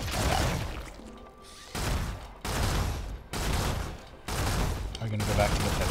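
Gunfire in the Stellar Blade video game comes in several heavy blasts that start abruptly and fade, spaced unevenly over a few seconds with a voice talking between them.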